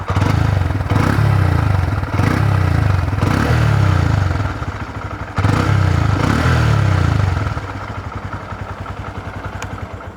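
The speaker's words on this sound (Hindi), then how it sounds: "इसका मैं आपको साउंड सुना दूँ। साइलेंट स्टार्ट होता है।" A Honda CB125 Hornet motorcycle's 125cc engine starts quietly and settles into a steady, close exhaust idle, with a few brief blips of throttle and a drop in level near the end.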